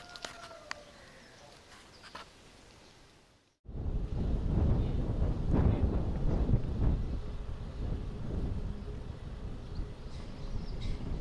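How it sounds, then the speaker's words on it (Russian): Strong wind at a bay roars across the microphone as a loud, continuous rushing buffet. It follows a quieter stretch and a brief cut near the start. "Сегодня у нас на заливе очень-очень сильный ветер."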